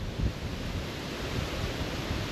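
Steady wind gusting along a seashore, a broad constant rush with low buffeting rumble like wind striking a microphone, continuous and fairly loud with no voices.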